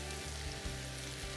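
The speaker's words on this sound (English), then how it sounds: "put that in the center and just let them sizzle" Meatballs sizzling in a drop of oil in a hot pan, a dense, steady crackling fry that stays close and constant for the whole moment without any voice over it.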